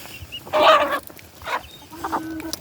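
Chickens, including a small black rooster, cluck nearby, one loud squawk followed by a few softer clucks in a quiet yard.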